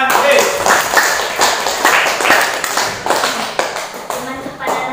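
A small group, likely a classroom in an Islamic religious education session, claps in quick irregular bursts near the microphone, with voices mixed in.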